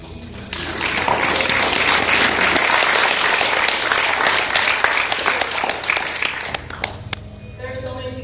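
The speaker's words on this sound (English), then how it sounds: "So you give them a round of applause." A large audience at a vegan festival talk gives a loud, sustained round of applause that fills the room for several seconds, then tapers off with a few scattered claps and voices.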